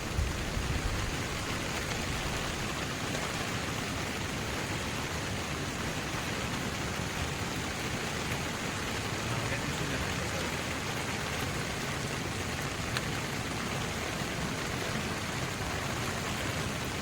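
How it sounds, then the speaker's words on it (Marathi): Steady rain falls on a farm, a dense, even hiss of drops spread across the whole stretch with no voices, soft but continuous for the entire span. "चला, परत पावसाला सुरुवात झाली."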